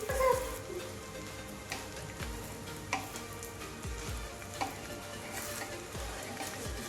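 Sabudana thalipeeth roasting in ghee on a pan, a soft continuous sizzle broken by a few spatula taps and scrapes, fairly quiet and without speech.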